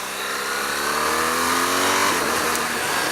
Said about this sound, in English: it's a little jerky when it shifts, if you use the quick shifter